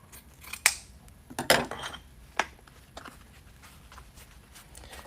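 Scissors snip a few times at a craft table while wreaths are being made, several sharp close clicks and cuts spaced irregularly over a quiet background.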